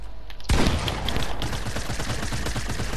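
Video game gunfire in a one-on-one match, starting abruptly after a brief lull and then carrying on as a loud, steady volley of rapid shots.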